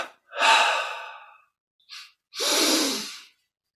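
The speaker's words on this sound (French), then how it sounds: "Double expire, on relâche bien et on recommence." A double exhale through the nose after a held breath during a yoga relaxation exercise: a long, loud, breathy rush, a short snatch of air, then a second strong, noisy push, with no talk.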